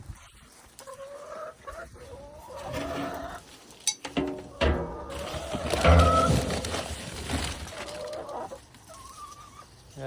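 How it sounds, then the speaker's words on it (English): Backyard chickens cluck and call near a garden, several birds making scattered, overlapping clucks and squawks at close range, with a louder burst of calls midway and brief handling noises. "I'm gonna give the chickens a little treat because they're calling"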